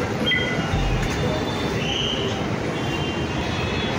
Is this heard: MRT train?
yes